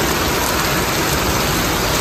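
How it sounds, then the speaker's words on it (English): Steady rain pours down in Costa Rica, a dense, even hiss of falling water that fills the short stretch at close range with no voices. "It's raining."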